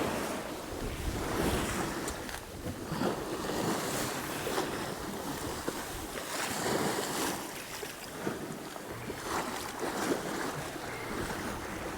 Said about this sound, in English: There's a little swell.